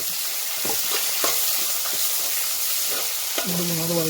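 Sliced onions frying in oil in a pan for Kerala-style mackerel curry, a steady close hiss of sizzling with soft stirring taps, ending with a short voice over the sizzle.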